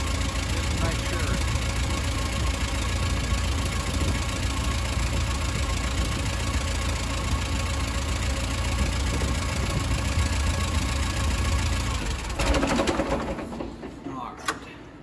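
An Allis Chalmers WD45 tractor engine idles steadily and loud at close range with a low, even rumble, then is shut off near the end, leaving a few faint knocks and clanks.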